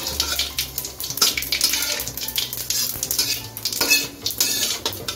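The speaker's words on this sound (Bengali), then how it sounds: "সাদা গোটা জিরাটা দিয়ে দিচ্ছি, জিরাটা একটু ভেজে নিচ্ছি।" Whole cumin seeds and dried red chillies fry in white oil in a pan over a medium gas flame, giving a steady close hiss with a few metallic clinks from a utensil against the pan.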